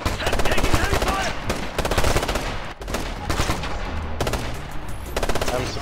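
Heavy automatic gunfire in the video game Ghost Recon Future Soldier, loud rapid bursts of machine-gun fire repeating almost continuously with brief gaps, voices talking over the shooting.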